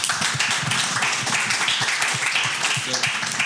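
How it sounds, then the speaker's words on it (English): A conference audience claps steadily throughout, a dense, even wash of hand claps with no pauses, close and fairly loud. "So a big round of applause, please."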